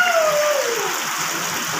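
Steady rain falls outdoors in a broad, even hiss that fills the whole clip, with a brief falling tone near the start.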